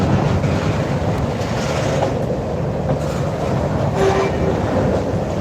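A Chicago North Western freight train rolls past, a steady, loud rumble of cars with wind buffeting the microphone, continuous for the whole stretch with no talk.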